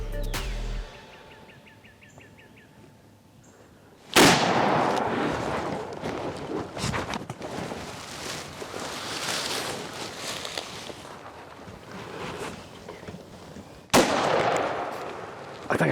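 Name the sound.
gunshot during a spring turkey hunt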